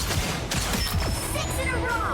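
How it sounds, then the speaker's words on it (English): Psylocke's primary fire in Marvel Rivals, sharp repeated energy bursts with sweeping whooshes in quick succession over busy game action, steady and close. "If you're not hitting all the bursts in her primary fire, like if you're doing something like this, it's gonna be really hard."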